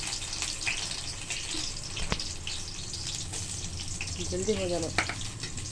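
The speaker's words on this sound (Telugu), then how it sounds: "ఆయిల్ హీట్ ఎక్కింది. తర్వాత ఫస్ట్ ఆనియన్ వేసుకోవాలి." Onions frying in hot oil, a moderate continuous sizzle heard close, with a person talking briefly over it and a few clinks of a utensil.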